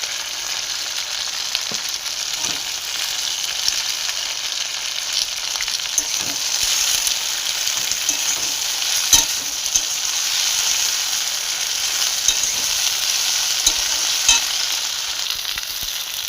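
Sliced onions and green chilies frying in a pan produce a continuous close sizzle with scattered crackles and occasional spoon taps as they are stirred, no voices over it.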